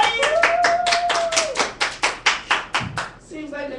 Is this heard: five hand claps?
yes